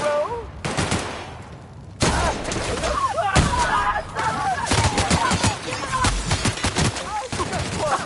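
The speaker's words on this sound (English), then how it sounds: "Gunfire, I heard." Gunfire in The Outer Worlds: sharp, loud shots and bursts of rapid fire in close succession, interspersed with a chaotic mix of other combat sounds and effects.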